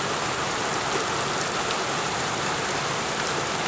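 Heavy rain pours onto a street at Havasu Landing during a storm, a loud, dense and unbroken hiss of water that holds steady throughout with no talking.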